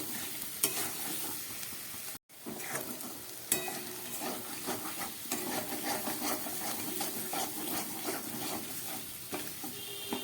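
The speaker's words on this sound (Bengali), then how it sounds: "মশলা কষাতে কষাতে আস্তে আস্তে তেল ছেড়ে যাচ্ছে মশলা থেকে।" Spice paste fries in oil while being stirred and scraped in a pan for a fish-head curry, a steady sizzle with repeated rubbing strokes, one brief gap and a few sharp clinks, and no speech.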